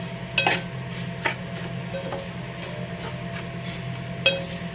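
Vermicelli for sheer khurma fries in a pan while being stirred, a low steady sizzle broken by a few sharp metallic clinks of the spoon against the pan.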